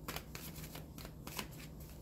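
Tarot cards shuffled continuously up close for a card pull, a rapid rustling, flicking patter with repeated sharp riffle bursts, fairly quiet overall.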